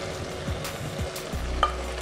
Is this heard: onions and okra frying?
yes